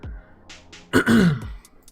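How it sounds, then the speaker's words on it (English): A short, harsh cough bursts out once near the microphone, preceded by a faint breath and followed by quiet. "Having to cough a whole heck of a lot here"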